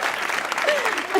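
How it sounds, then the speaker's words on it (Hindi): A studio audience clapping briefly in dense applause, with a voice speaking over it. "ताली बजाओ।"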